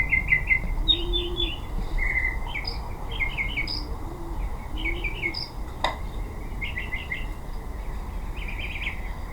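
Repeated bird chirps, short bright bursts in quick clusters over a constant low hum, with a faint lower cooing call and one sharp click.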